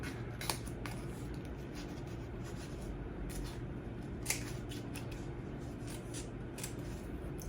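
Scissors snipping through paper while cutting out a paper ballerina, a close run of crisp, irregular cuts and light paper rustles, no talking.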